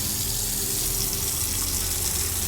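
Water pours steadily into a container in the video game Autopsy Simulator, a loud, continuous rushing gush with no breaks or voices.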